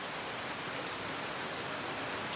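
Heavy rain pours steadily at night, a dense, even hiss of drops with no breaks, close and loud throughout.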